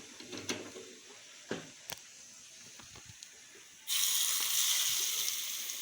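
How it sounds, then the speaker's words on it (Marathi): A few soft clinks and taps, then a sudden burst of hissing sizzle as hot oil tempering with asafoetida and turmeric is poured over raw mango chutney, steady and fairly loud before slowly easing. "गरम गरम फोडणी ह्याच्यावर ओतायची."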